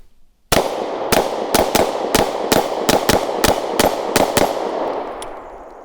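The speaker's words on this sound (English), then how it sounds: "I love shooting this gun." A SIG Sauer P365 pistol fires about eleven sharp shots in quick, fairly even succession, loud and close, with the echo fading away afterward.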